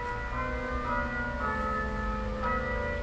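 Noon Angelus bells ring out from a church, a continuous layered peal of sustained tones with soft periodic strikes, steady and moderately loud throughout, no voices.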